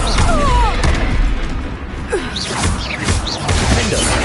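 The Confringo blasting spell in Hogwarts Legacy goes off amid a loud, continuous stretch of combat noise, with booming thuds, whooshes and crashes piled together, and speech mixed in.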